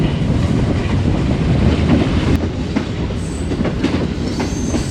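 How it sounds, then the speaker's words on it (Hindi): The Pak Business Express, a passenger train running from Peshawar to Karachi, rolls into Kot Lakhpat station with a loud, close rumble of wheels on rail, rhythmic clatter over joints and brief high wheel squeals. "park business express coat Lakhpat railway station पे अप्रोच कर रही है"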